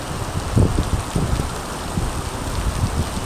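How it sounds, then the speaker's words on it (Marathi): Heavy rain pours steadily in Bhiwandi, a dense loud hiss with occasional low rumbles and thumps beneath it, with no voices. "खूप भयानक पाऊस पडत आहे कुठे पावसाचे चिन्ह दिसत नाही की लवकर थांबेल म्हणून गडगडाट पण जास्त होत आहे"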